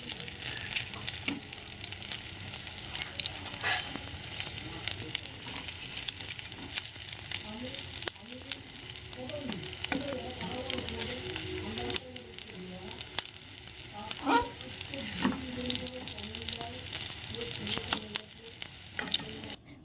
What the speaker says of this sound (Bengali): এই যে এই কটা মতো ভাজা হচ্ছে এটা ভাজা হয়ে গেলেই হয়ে যাচ্ছে